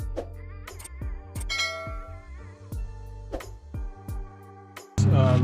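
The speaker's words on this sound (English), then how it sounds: "after driving the lower ball joint out with the sledgehammer" A sledgehammer strikes the steering knuckle of a Honda Prelude front suspension to drive out the lower ball joint, a rapid series of loud ringing metallic clangs with lingering resonance, followed by a harsher burst at the end.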